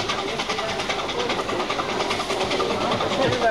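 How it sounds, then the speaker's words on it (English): A Ffestiniog Railway narrow-gauge train runs past, a continuous loud rumble with rhythmic clatter of wheels on rails, steady and close throughout. "Oh, here it is, look, another train coming."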